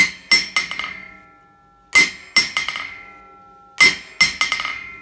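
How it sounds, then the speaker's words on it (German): Three times, a hammer drops onto a steel anvil and rebounds in a quick series of bright ringing clinks, each bounce softer than the last. "Man fasst den Hammer locker an und lässt ihn einfach mal drauf fallen."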